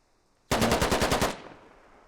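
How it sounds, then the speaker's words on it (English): A short automatic burst of rifle fire in the military shooter game Squad: roughly ten rapid, evenly spaced loud shots lasting under a second, then a fading echo. "Harv spends half a mag dumping towards Seneca's direction"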